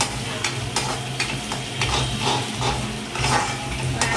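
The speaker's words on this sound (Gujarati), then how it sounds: "આને થોડી વાર શેકાવા દઈએ" Ingredients for pav bhaji roasting in a pan with salt added, a close steady sizzle with crackling bursts and occasional scraping stirs.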